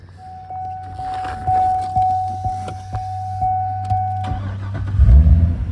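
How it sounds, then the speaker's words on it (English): A 2008 Chevrolet Corvette C6 LS3 V8 engine sits on a stand for sale, cranking through a series of short starter bursts and then catching with a loud low rumble at the end, heard up close. "Engine starts right up."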